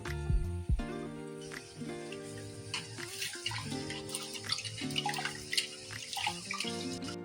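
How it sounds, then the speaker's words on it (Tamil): Jeera samba rice being washed in water for biryani, with splashing, swishing and tap-like running water close by, punctuated by small clinks and drips. "இந்த மாதிரி ரைஸை வாஷ் பண்ணிவிட்டு 5 மினிட்ஸ்க்கு இதை ஊற விடுங்க"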